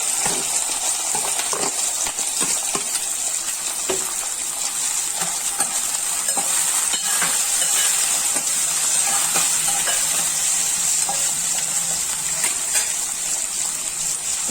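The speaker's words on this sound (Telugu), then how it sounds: "నూనె వేడెక్కిందండి. ఇప్పుడు నేను కట్ చేసి పెట్టుకున్న ఆనియన్స్," Onions and green chillies frying in hot oil in a pan: a loud, continuous close sizzle with crackling pops and occasional stirring scrapes, steady throughout with no talking.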